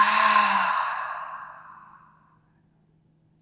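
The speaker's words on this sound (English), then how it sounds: "Open the mouth, exhale." A single forceful exhale through an open mouth during an intermediate yoga session with twists, a long breathy rush that starts loud and fades away over about two seconds, heard alone without talk.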